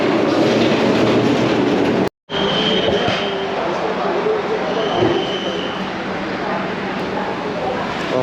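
Rajdhani Express train pulling out of Gondia Junction, a steady loud rumble of rolling carriages with a brief dropout and faint tonal squeals, heard from on board.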